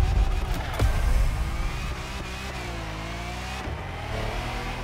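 A big V12 Lamborghini engine in The Crew Motorfest video game revs loud and close, its pitch rising and falling across several throttle pulls under a steady mechanical drone.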